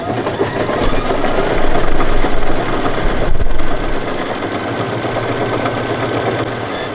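An embroidery machine stitches out a placement line for a Kimberbell table topper, whirring and thumping steadily and loudly close by with no pauses.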